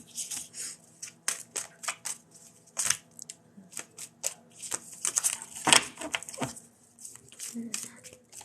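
Tarot cards are shuffled in quick, crisp riffling bursts, close and fairly quiet, with irregular pauses between flurries and a few faint background sounds.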